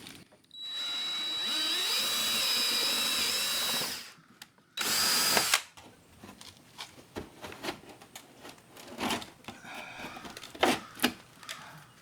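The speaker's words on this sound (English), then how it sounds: "Let's see if we can get these rivets out." Power drill boring out rivets on the outdoor shower of a 2006 Fleetwood Niagara pop-up camper, two loud sustained whirring bursts, the first about three seconds and the second short, followed by scattered clicks and handling knocks.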